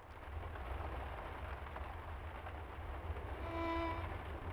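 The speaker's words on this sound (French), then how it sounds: "La pluie commence à tomber." Soft rain falls steadily over a low rumble in the video game The Lion's Song, a quiet continuous hiss, with a brief faint tone near the end.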